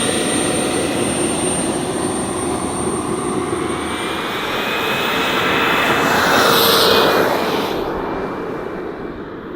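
A giant turbine-powered RC jet aircraft flies past, its loud, steady jet whine and roar swelling as it passes closer, then thinning as it pulls away.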